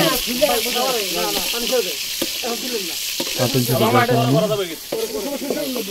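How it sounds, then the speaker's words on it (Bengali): Eggs frying in oil at a family picnic give a steady sizzle under continuous nearby talking, with other outdoor cooking going on. "আমাদের একটা নতুন ভাই ডিম তেলে ভাজতেছে"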